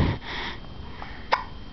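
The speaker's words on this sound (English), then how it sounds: "Nice hiccups." An 18-month-old toddler lets out a single short, sharp hiccup near the end, over a quiet indoor background.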